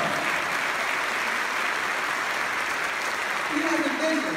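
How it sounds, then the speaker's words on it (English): Audience applause at a concert, a dense even wash of many people clapping, steady and fairly loud throughout with a faint voice near the end. "Please give him a round of applause."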